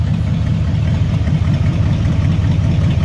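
Steady low rumble of a Ford F150 pickup's engine idling nearby, continuous and even throughout with no talking.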